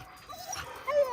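A rescued dog, about three or four years old and saved from slaughter, whimpers close by in thin, high, wavering whines that rise near the end, faint and alone.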